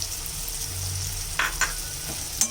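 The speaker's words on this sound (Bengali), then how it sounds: "এখন দিয়ে দেব সেই গুঁড়া লঙ্কাটা।" Chili powder goes into shidol chutney frying in a pan, giving a steady soft sizzle with a few brief stirring scrapes near the end, fairly quiet and with no voices.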